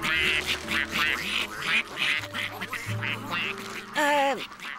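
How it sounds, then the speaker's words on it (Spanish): Cartoon ducks quack in a busy series of nasal calls near a pond in Curious George, with a music score underneath and a final rising squawk near the end. "¡Patos!"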